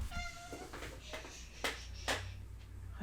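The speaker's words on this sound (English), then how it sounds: "Oops, there's my cat." A cat meows several times, short faint cries over a low background hum and some soft rustling, fairly close but quiet.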